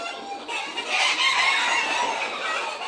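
Chickens in a fly pen on a farm cluck steadily together, a dense continuous chorus of fowl calls at moderate distance with no voices present.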